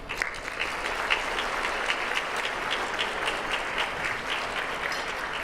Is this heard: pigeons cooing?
no